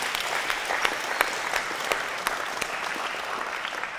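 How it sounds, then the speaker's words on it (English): Adult volleyball camp participants clap for themselves after a warm-up drill, a dense burst of applause from a small group, steady and close throughout with no talking. "let's give yourselves a round of applause"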